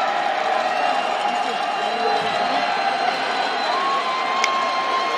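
A large stadium crowd at a Georgia State versus Appalachian State college football game makes a steady, broad roar, with a commentator's voice running over it.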